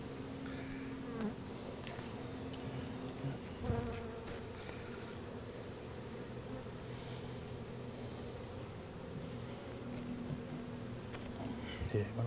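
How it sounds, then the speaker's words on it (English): Dense, steady buzzing of many bees close by, continuous throughout with a few soft knocks. "If you notice, they're pretty mild, these bees."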